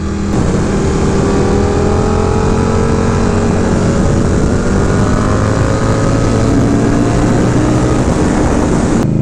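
An Indian Scout Bobber motorcycle on new tires rumbles steadily while riding, its loud engine drone mixed with wind rush, continuous and close throughout.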